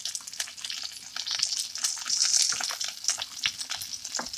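Food frying in a pan crackles and sizzles in bright bursts, with clatter as pieces are flipped, close and busy throughout.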